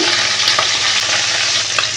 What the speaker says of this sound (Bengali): একটু লাল লাল করেই ভেজে নেব